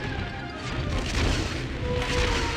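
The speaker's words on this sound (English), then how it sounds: "these guys are shooting lasers at me!" Enemies firing lasers in the video game Drakan: The Ancients' Gates, producing a short dense wash of booming, crashing blasts that swells in two waves over a couple of seconds.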